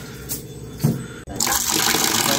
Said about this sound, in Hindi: पीने के लिए पानी भर रहे हैं।